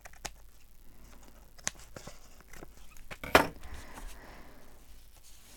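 Scissors trim the top edge off a sheet of paper in a quiet room, producing a few soft, scattered clicks and one sharper snip amid a low background hush.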